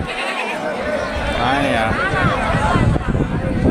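Goats, including billy goats, bleat in wavering cries amid a busy crowd at the Kunta goat market, with people chattering all around and the bleats rising over the noisy market din.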